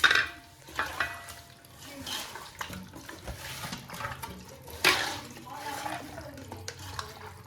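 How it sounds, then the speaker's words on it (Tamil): Marinated chicken being mixed by hand in a bowl, producing wet squelching and stirring sounds that continue steadily, with some background noise. "மிக்ஸ் பண்ணுங்க கை போட்டு மிக்ஸ் பண்ணு"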